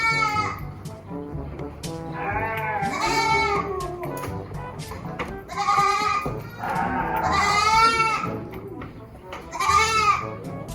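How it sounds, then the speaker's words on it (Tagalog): Female goats in a pen bleat loudly and repeatedly in wavering cries, several calls overlapping at close range, with voices murmuring in the background. "Umiyak ang kambing."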